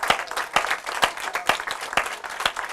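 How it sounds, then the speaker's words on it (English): An audience applauds for panel members after a panel discussion on the opioid crisis, with dense, steady clapping and sharp individual claps throughout, no voices over it. "Can we give a huge round of applause for each of our panel members?"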